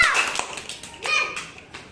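Children in a classroom drawing activity give a few scattered, sharp handclaps with some small taps. Kids' voices and chatter run over and between the claps.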